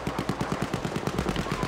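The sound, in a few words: gunfire in Battlefield V video game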